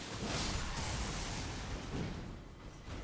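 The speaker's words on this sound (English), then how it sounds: "Let's do a lightning attack." Zweihander lightning attack in Elden Ring, set in the capital Leyndell: a sustained, dense crackling rush of energy lasting about three seconds, loud and steady, fading slightly near the end.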